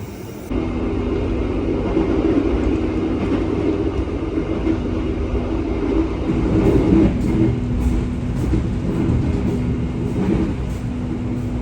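Inside a new Argo Semeru stainless steel passenger carriage, the train travels from Surabaya Gubeng toward Jakarta with a steady loud rumble. A low hum runs throughout, and faint rhythmic clicks of the wheels pass over rail joints.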